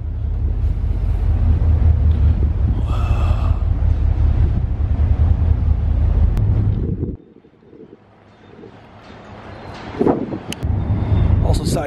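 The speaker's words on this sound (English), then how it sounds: "It's super windy out here!" Strong wind buffets the microphone on the open deck of a car ferry, a loud roaring rumble that drops out briefly midway and then returns at full force.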